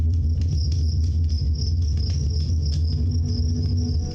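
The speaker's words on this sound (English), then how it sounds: "crickets." Crickets chirp steadily in a continuous high trill over a low constant hum, with no voices.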